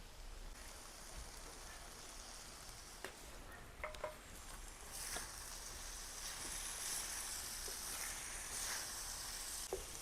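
Boiled eggs simmer in hot, oily Koli-style masala gravy on a tawa, giving a steady close sizzle and bubbling that swells midway, with a few soft clinks and stirring noises and no talking.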